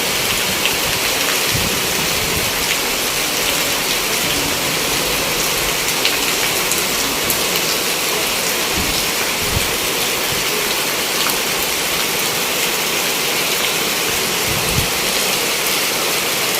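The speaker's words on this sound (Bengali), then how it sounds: "দেখতে পাচ্ছেন প্রচুর বৃষ্টি হচ্ছে এখানে" Heavy rain pours down on a village in Bangladesh in a steady, dense roar that never lets up, loud and close, with occasional low thumps underneath.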